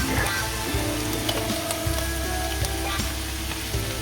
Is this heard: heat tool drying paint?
no